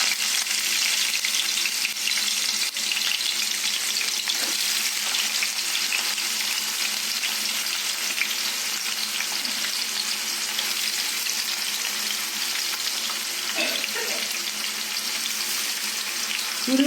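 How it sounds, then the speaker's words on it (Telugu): Chopped onion pieces fry in hot oil with cinnamon and cloves for a chicken curry, giving a steady, close hiss and crackle that holds evenly throughout, with faint stirring clinks. "ఆయిల్ వేడయ్యాక మనం కట్ చేసి పెట్టుకున్న ఉల్లిపాయ ముక్కలు వేసుకున్నాము."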